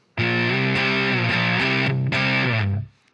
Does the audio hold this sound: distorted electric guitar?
yes